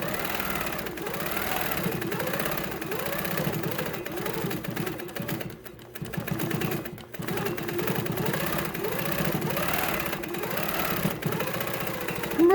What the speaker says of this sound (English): I'm just going to do like 1/4 inch straight line sewing here.